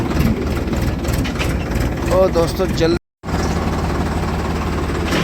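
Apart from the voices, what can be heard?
Ford tractor engine running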